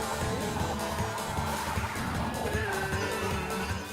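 A Mario Kart 8 kart drifts into a turn in Mirror Mode, its engine whining steadily while a rising squealing tone slides upward partway through, over busy game music and effects.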